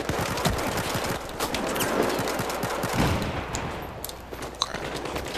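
Battlefield 4 beta multiplayer gunfire: a sustained, loud fusillade of overlapping automatic shots and distant cracks, with no pause for the whole stretch.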